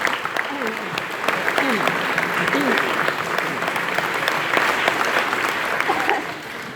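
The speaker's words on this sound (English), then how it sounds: "Let's give them a round of applause." A crowd at an award ceremony claps steadily and enthusiastically throughout, a dense wash of applause that holds at an even level without fading.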